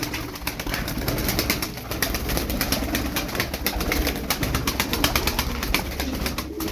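A loft of about eleven Turkish performing pigeons coos continuously, a dense, fairly loud murmur of overlapping calls, with a sharp fluttering patter running through the middle and no talking.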